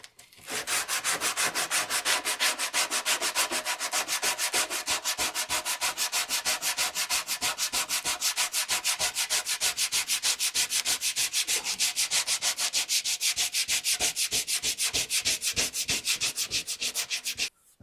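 Hand sanding wood with 60 grit sandpaper on a hand-built bookcase, a steady rapid back-and-forth rasping, loud and close, continuing evenly for about seventeen seconds without speech.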